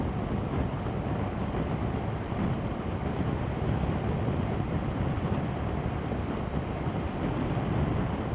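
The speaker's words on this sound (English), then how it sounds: "it is very, very, very, very windy." Strong wind roars and buffets across the microphone on a 2019 BMW R 1250 GS motorcycle ride, a dense, steady low rumble of rushing air that stays loud and constant, with no voices.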